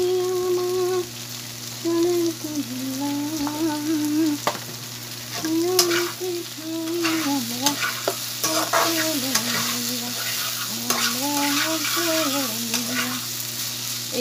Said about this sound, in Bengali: এই তো ঢেঁড়স ভাজি।